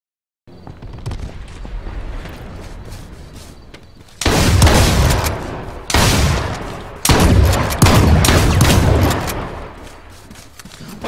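Repeated shotgun blasts in the survival video game H1Z1, loud, booming bursts in quick succession over sustained rumbling gunfire, with no talking.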